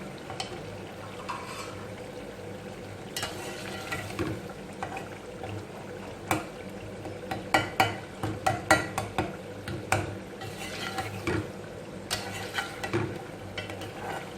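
Soft frying and stirring of tomato masala for moong dal in a pan, with low sizzling and a series of light spatula clinks and scrapes growing more frequent toward the end.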